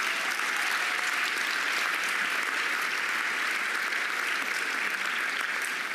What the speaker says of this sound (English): So give a round of applause for Alberto.